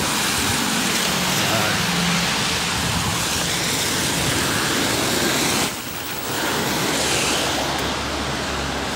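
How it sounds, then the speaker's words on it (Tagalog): Steady heavy rain on a city street in Malta's central business district, a dense continuous hiss that briefly dips before returning, with a voice talking underneath. "Ulan, kaya malamig na, umulan pa."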